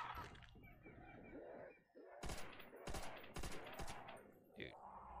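Gunfire bursts in the Call of Duty Zombies map Shi No Numa: several sharp, loud shots and rapid volleys in clusters, mixed with game sounds and a brief metallic clink.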